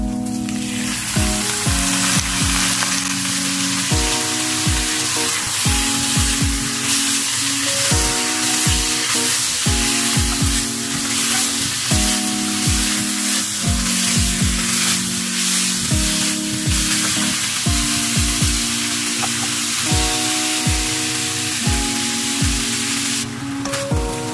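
Pork belly strips fry loudly in a pan, a dense continuous sizzle with irregular spattering pops and a rhythmic clatter of stirring throughout, with no voices.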